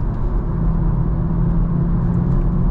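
BMW M140i Shadow Edition engine pulling hard while driving at night, a steady loud low rumble and drone from the cabin with no break, no voices.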